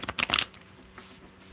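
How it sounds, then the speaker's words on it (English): A quick riffle of playing cards being shuffled, a few crisp bursts of flapping close by, then a softer patter. "I like to read the question while I'm shuffling"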